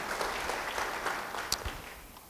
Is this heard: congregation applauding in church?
yes